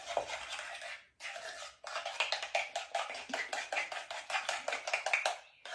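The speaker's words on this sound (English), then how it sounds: "Now we're going to mix that up." A spoon beats mayonnaise, canned soup and butter in a bowl for a cabbage casserole, making quick repeated scraping clinks in an uneven rhythm, close and clear, with no talk.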